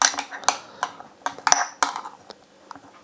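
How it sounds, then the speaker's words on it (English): Chopped ingredients and black beans being stirred in a bowl, a spoon clinking and scraping against the dish in a quick, irregular series of sharp knocks, close and fairly loud. "Once you've got it all chopped up, put it in with the black bean and give it a nice mix"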